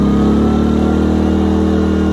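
A Westinghouse iGen 2200 inverter generator engine runs loud and steady at raised RPM while powering a 1200-watt heat gun, a constant close droning hum throughout.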